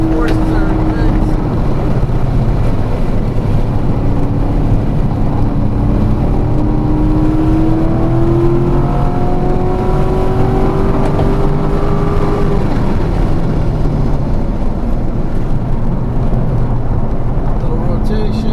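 A 2017 Corvette Grand Sport Collector's Edition is driven hard around a race track on warmed-up tires and brakes, with loud continuous engine roar shifting pitch through gears, buffeted by heavy wind noise.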